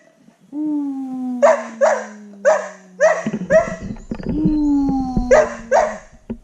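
A dog barks in short repeated bursts, loud and close, about six or seven yips spaced across the stretch, while a person hums a long sustained "ooh" tone.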